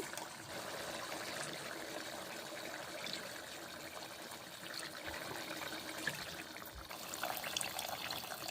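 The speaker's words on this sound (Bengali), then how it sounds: "মশলা ধোয়া জল দিলাম, প্রেসার কুকারে চাপিয়ে নিচ্ছি" Water used to wash spices being poured into a pressure cooker for a whole moong and urad dal, a quiet close trickle and splash that runs steadily with no voices.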